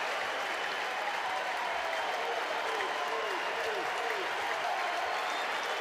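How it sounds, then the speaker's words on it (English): A college baseball crowd at a Mississippi State vs Georgia game in Athens applauds pitcher Joey Volchko, a dense, steady wash of clapping and cheering from the stands, with a commentator talking over it. "The crowd rises in support of Joey Volchko in Athens"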